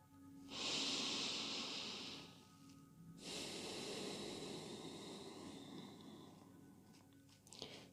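Two long, deep breaths are drawn close to the microphone during a yoga embryo pose, each a soft rushing, airy sound lasting a couple of seconds, with a quiet pause between them.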